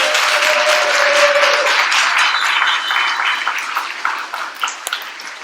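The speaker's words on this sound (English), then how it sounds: "Huge round of applause for the performers" Audience applause for the performers at a closing-remarks event: a loud, dense wash of clapping that stays steady and then thins into scattered claps near the end, with a brief tone ringing through the early part.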